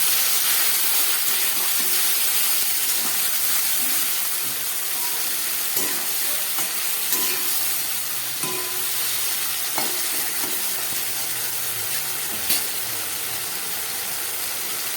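Water from washing ground spices poured into a hot pan of spices, a loud, steady steaming sizzle and hiss that carries on throughout with occasional clinks of stirring.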